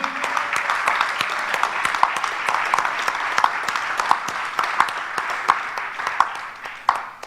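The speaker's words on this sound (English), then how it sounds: "can we hear it for a big round of applause" A business audience gives a big round of applause for a Global Markets President, steady close clapping with a few sharper individual claps standing out, alone without talk.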